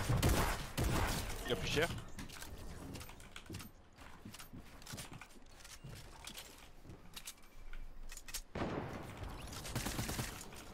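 Rapid minigun fire in a shooter video game, with long rattling bursts at the start and again near the end, dropping to quieter action in between while players talk over it.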